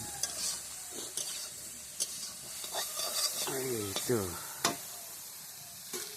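Food frying in a pan as it is turned and stirred, a soft steady sizzle with intermittent scraping and tapping strokes, while a person speaks briefly over it.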